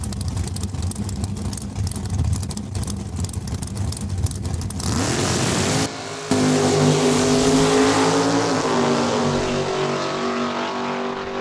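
Drag race cars at Saskatchewan International Raceway launch from the start line, engines droning at idle before a loud, roaring burst of acceleration that stays strong and close to the end.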